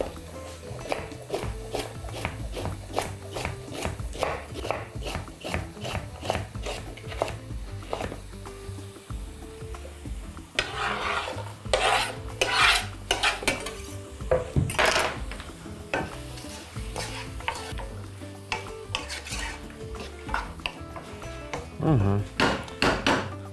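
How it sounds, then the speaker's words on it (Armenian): Two small carrots are sliced flat with a knife on a cutting board, a steady run of quick crisp taps close up, pausing briefly and resuming, with faint kitchen clatter and occasional voice in the background. "կտրատում ենք տափ հողակների"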